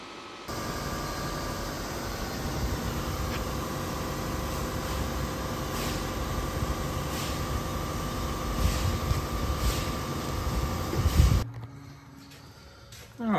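An intake cleaning machine runs on a car engine during an EGR cleaning job, producing a steady, loud broadband roar with a constant drone that continues unbroken before cutting off abruptly near the end.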